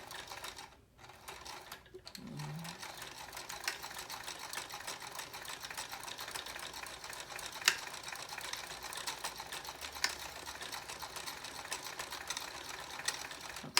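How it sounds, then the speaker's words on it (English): Sewing machine stitching in the ditch to hem pants, running back and forth with a steady, close mechanical whir and rapid needle ticking, sustained almost the entire time after a brief pause near the start. "I'm going to do this here, stitch in the ditch, just back and forth"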